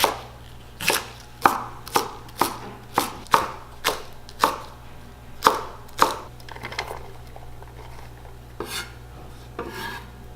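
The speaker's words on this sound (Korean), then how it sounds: "손만 올 때는 먹기 좋게 송송 썰게요." A knife slices vegetables finely on a cutting board for Korean vegan cooking, giving a rhythmic series of crisp, close chops. The chops are quick and regular, then slow to sparser strokes near the end, with no talk.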